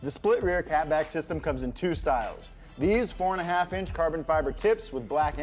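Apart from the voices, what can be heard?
No everyday noises stand out.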